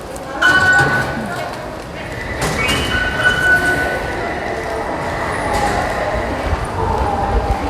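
A metro station hums with an arriving or passing subway train, a rumbling, clattering wash of rail noise with brief squeals, mixed with station bustle and people talking nearby.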